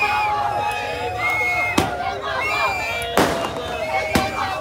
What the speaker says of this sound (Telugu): క్రాకర్స్ వెలుస్తుర్రు,